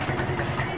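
A renovated older motorcycle, a father's bike restored as a surprise, idles steadily at close range with a low, continuous rumble and no talk over it.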